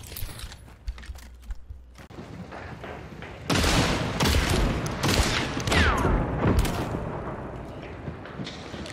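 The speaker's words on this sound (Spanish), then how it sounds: "un tiro." Gunfire in the video game Hunt: Showdown comes as a burst of loud, booming shots and crackling echoes, with quieter clicks and scattered impacts before the main barrage.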